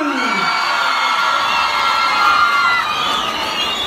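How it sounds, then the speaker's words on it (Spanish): Loud crowd cheering and shouting at a Quito city festival stage show, with children's voices and whoops rising together in one sustained, close roar. "Las barras y los aplausos para Paul."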